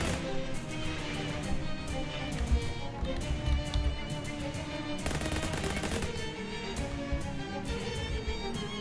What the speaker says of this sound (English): We'll shoot the button first.